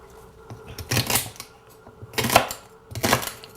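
A knife chopping celery stalks on a cutting board, three distinct groups of crisp cutting crunches separated by brief pauses, close and fairly loud with no talking.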